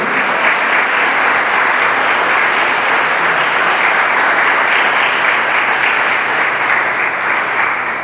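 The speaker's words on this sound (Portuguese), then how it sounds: "Pode aplaudir bem forte o nome de Jesus." A large church congregation applauds loudly and steadily, a dense wash of clapping that holds for several seconds without a break.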